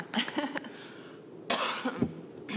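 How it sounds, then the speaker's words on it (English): Several short, harsh coughs come in two bursts, close and fairly loud, with a quiet pause between them, during a government committee meeting. "pardon my coughing"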